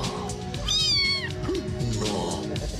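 A cat meows a drawn-out, wavering cry, then a shorter mew follows, both heard close over a busy background of music and noise.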